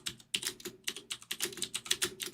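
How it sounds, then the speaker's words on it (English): Rapid, uneven clacking of keys on a computer keyboard, close and steady, with bursts of keystrokes and short pauses. "you can hear my keyboard"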